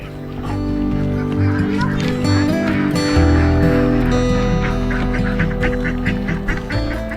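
Ducks quack in a noisy cluster nearby, loud and busy, with some human talk mixed underneath.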